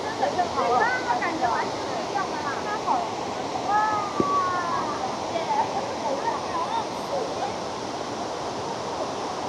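Huangguoshu waterfall in Guizhou, China roars as a constant broad wash of rushing water, heard close up near the cliff path with a voice speaking over it.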